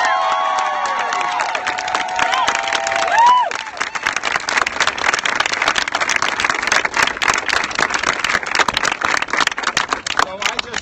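Large crowd cheering and applauding at a gun control rally outside the Capitol, a continuous dense roar of claps and shouts, loud and sustained, after a brief whistle-like tone at the start.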